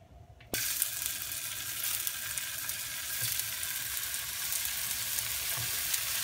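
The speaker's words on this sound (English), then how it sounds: "We're going to leave our skillet on because the tofu is going in next." Tofu sizzles steadily in a hot skillet for a meatless breakfast sandwich. A sudden burst of frying starts about half a second in and then holds as a dense, even crackle with no talking.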